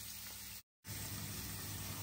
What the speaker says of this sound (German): Das lassen wir jetzt für 1 Minute anbraten.